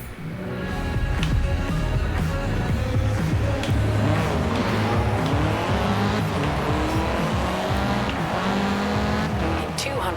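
A McLaren Senna supercar in the racing game Forza Horizon 4, its engine roaring loud and continuous while tires squeal through hard driving, close and dominant with game voice lines faintly beneath.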